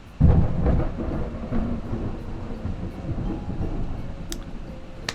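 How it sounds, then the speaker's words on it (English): Thunder from a passing storm: a sudden deep rumbling crack that swells and then rolls on as a long, low grumble fading slowly, with faint rain beneath and no voices. "Thunder couldn't even wait until the video was over."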